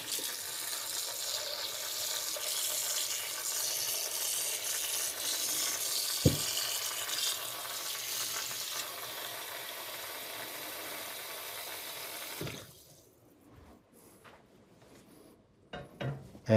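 Water poured into a hot pot of sizzling lardons and beans for a French Canadian tourtière, a loud, steady hiss and bubbling for about twelve seconds before it suddenly drops to quiet clinks and a faint simmer.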